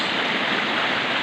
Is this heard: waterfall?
yes